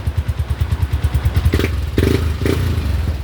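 A Yamaha Nmax scooter that had a code 14 no-start fault starts and idles with a close, loud, even engine putter. A few clattering thumps follow as it keeps running.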